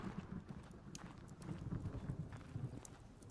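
Horse hooves clip-clop steadily in the video game Rising World, a moderately loud rhythmic clatter of repeated footfalls over a low ambient bed with no talking.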